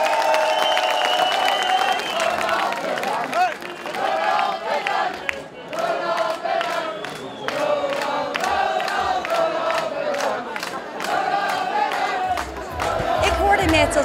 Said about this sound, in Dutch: ik vraag van jou nogmaals een daverend applaus voor jullie burgemeester